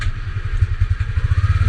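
A Yamaha Aerox 155 scooter engine runs close by with a keyless start. It gives a steady, low, throbbing putter with a quick, even pulse and no speech over it.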